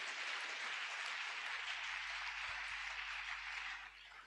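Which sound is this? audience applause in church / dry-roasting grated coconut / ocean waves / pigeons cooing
audience applause in church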